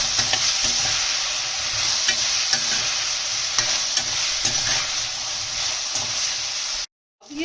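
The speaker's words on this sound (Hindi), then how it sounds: "अब उसके साथ हम मटर डालेंगे और मटर को भी इसके साथ हम हाफ फ्राई करेंगे।" Green peas sizzle in a kadhai with half-fried mixed vegetables for a veg handi, a loud steady hiss with stirring scrapes, cutting off abruptly near the end before sound briefly returns.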